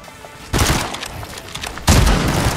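Two loud bursts of gunfire in Fortnite, a short volley at the start and another near the end, crackling and booming with a noisy tail between them.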